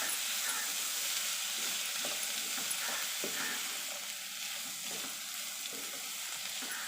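Sliced snake gourd fries and is stirred in hot oil, a dense continuous sizzle and hiss close by, with soft scraping stirs running through it.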